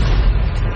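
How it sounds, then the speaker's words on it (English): A loud, sustained explosion from the TV series Lost, a deep low boom that fills the whole short moment with rumbling blast noise and no voices. "But the explosion left Sun trapped."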